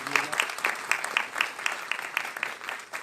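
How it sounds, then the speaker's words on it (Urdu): Audience applause welcoming a guest at a World Urdu Association inaugural event, a light, fairly distant patter of clapping with regular sharp claps, somewhat faint. "آپ ہی تالیوں سے استقبال کیجیے گا"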